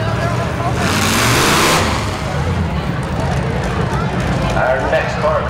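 A demolition derby car, one of the 8-cylinder heat cars at the Schaghticoke Fair, rolls into the arena with a loud, rumbling engine that swells and then holds steady. An announcer talks over the noise of the crowd.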